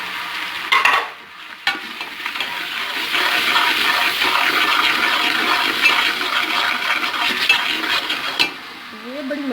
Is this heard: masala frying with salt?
yes